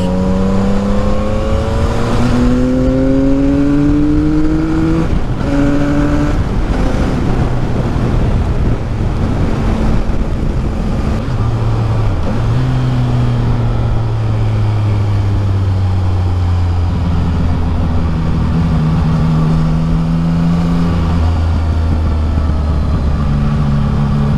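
A CF Moto 675 NK motorcycle engine runs steadily with rising and falling tones and faint exhaust pops, heard on the move under strong wind noise.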